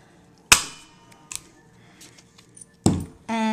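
Two sharp metallic punches from a Crop-A-Dile tool going through strips of designer paper, a loud snap near the start and another near the end, with faint clicks between.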